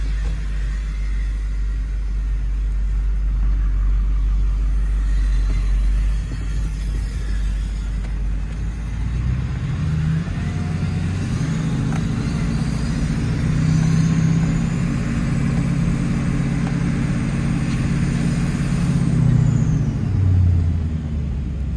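A Chevrolet GMT800 2500HD pickup with an LLY Duramax diesel and ZF6 manual gearbox idles with a deep rumble, then pulls away in first gear, the engine note rising into a steady, loud drone heard from inside the cab.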